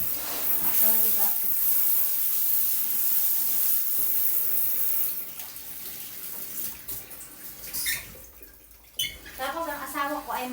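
Hot water runs from a tap into a bathtub being cleaned, a steady loud hiss for the first half, then quieter splashing and dribbling with someone talking and singing over it.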